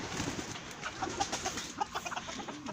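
Pekin bantam rooster and chickens cluck and murmur together in a farmyard pen, the calls soft and scattered over steady outdoor background noise.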